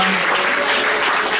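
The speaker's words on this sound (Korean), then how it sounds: "하나님께 영광의 박수 올리겠습니다." A church congregation claps steadily and loudly, a dense continuous wash of applause throughout.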